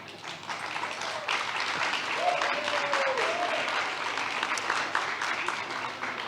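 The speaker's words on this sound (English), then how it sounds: "let me just listen to that applause a little bit" Audience applause fills a conference hall at the ESG Adria Summit 2025, a steady, dense clapping that swells within the first second and holds at an even level throughout, with a faint voice briefly audible in the room.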